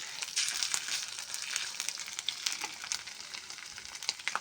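Ginger paste hits browned onions frying in a pan, giving a steady bright sizzle with stirring scrapes throughout, close and continuous with no talking.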